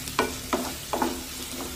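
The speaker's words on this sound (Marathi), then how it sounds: "आणि कांदा सतत परतत राहायचं, म्हणजे मग तो सगळीकडून एकसारखा भाजला जातो" Onion sautéing in a pan, stirred constantly as it softens to a light pink, giving soft sizzling with three or four distinct scraping stirs in a steady rhythm, fairly quiet and close.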